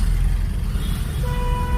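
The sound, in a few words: car horn honking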